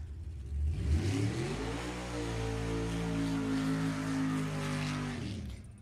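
At a drag strip, a 2015 Camaro's engine revs up loud and close, then settles into a sustained high-pitched drone before easing off at the end.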